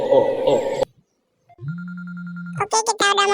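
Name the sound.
telephone ringing in a video game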